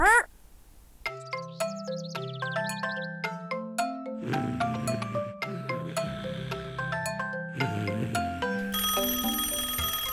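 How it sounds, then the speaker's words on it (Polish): A repeated melodic ding-dong doorbell chime in a children's cartoon plays over and over, bright and clear, with a long jingly chiming passage building toward the end. "obudź się! Ktoś dzwoni!"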